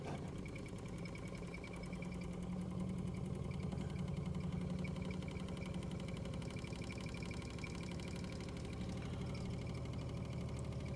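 A Wilesco D430 toy steam engine runs on a Bix burner with a quiet, rapid, even chuffing tick over a soft mechanical hum, steady and unbroken, no voices.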